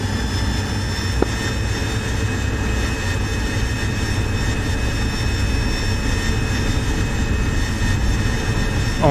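Military jet engines roar for a takeoff roll in the DCS World flight simulator, a loud, unbroken whine and rumble holding steady throughout with a faint high tonal hum on top.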